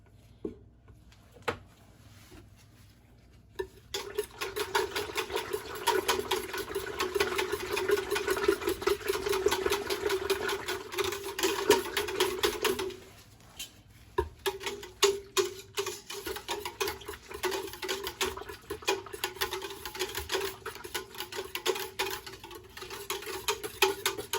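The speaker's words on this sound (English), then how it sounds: "let me whisk in this last amount" A homemade pH-balanced feminine wash mixture is whisked in a container, giving a steady stream of fast, light tapping clicks that runs continuously, fairly quiet, with a brief lull partway through.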